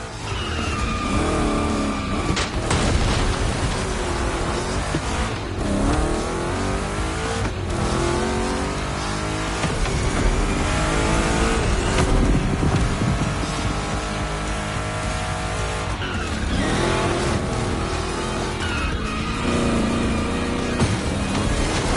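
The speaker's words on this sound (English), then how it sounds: "Two Chevys, two big blocks, but only one winner." Two Chevrolet big-block cars race in The Crew Motorfest, engines roaring and revving steadily throughout with repeated tire squeals and skids through the turns, loud and continuous with no talking.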